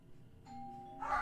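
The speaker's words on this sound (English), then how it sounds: "The doorbell just rang." A doorbell gives a single soft two-tone chime, faint and indoors, with no talk.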